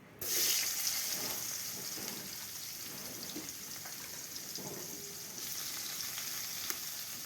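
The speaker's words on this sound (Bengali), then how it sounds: "তেলের উপরে পেঁয়াজ কাঁচা লঙ্কা" Chopped onion and green chillies hit hot oil in a pan with a sudden loud sizzle that settles into a steady crackling fry, heard alone without talk.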